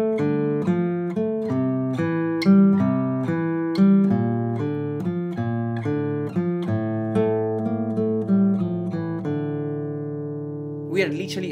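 A Spanish guitar melody plucked with the thumb plays a clear sequence of single notes ringing over sustained chord tones, close and solo, ending with a brief strum-like burst.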